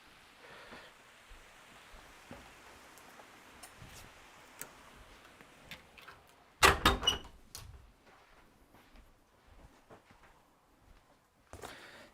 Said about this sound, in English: Let me close the window real quick because it started raining.